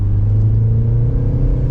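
A 2025 Mini Countryman S ALL4 Iconic in go-kart drive mode gives a steady, loud low engine rumble and hum heard from inside the cabin, continuous with no speech.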